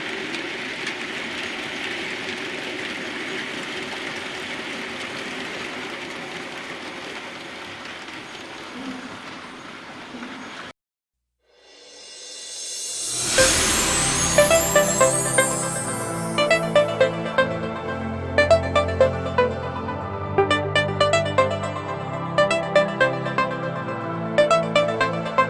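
A train pulls away from Dent station toward Whithill Tunnel, a long low rumble under rainy hiss that cuts out briefly, then returns with rising rail noise and rhythmic clicking wheel beats.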